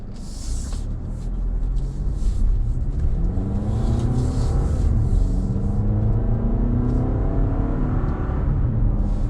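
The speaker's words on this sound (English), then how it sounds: "It's a 4-cylinder. It's not gonna sound the best" A 2021 Toyota RAV4 TRD Off Road with a four-cylinder engine in sport mode, heard from inside the quiet cabin on dirt roads as a steady, muted engine hum with gradually rising pitch under continuous road rumble.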